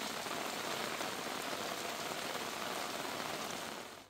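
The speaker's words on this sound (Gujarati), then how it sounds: "ધારી પંથકમાં ધોધમાર વરસાદ" Heavy rain pours down steadily in the Dhari area of Saurashtra, Gujarat, a dense, even hiss of falling water that holds constant throughout before easing slightly at the very end.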